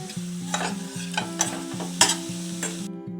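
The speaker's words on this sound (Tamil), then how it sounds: "பூண்டு பேஸ்ட் நல்லா ஃப்ரை ஆகிடுச்சு." Ginger garlic paste frying in a pan sizzles softly while a spoon scrapes and stirs it in a steady rhythm of about five strokes, close and clear with no talking.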